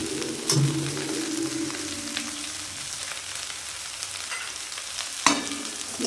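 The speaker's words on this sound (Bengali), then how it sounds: "নেড়ে দিলাম।" Parshe fish curry with brinjal and potato sizzling in a pan as a spoon stirs it, a steady close frying hiss with occasional scraping clinks, no voices.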